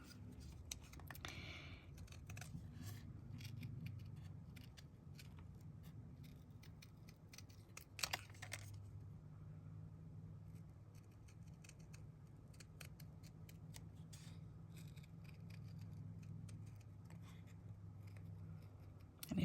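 Scissors snip through a paper pattern at a craft table in quiet, close, irregular clicks and slicing strokes spread across the whole stretch, with soft paper rustle and low room hum beneath.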